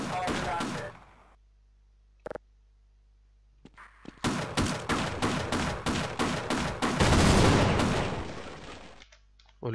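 Rapid bursts of gunfire in Half-Life, a short opening volley, a single shot, then a long rattling stretch of repeated shots building into a dense roar before cutting off, close and loud.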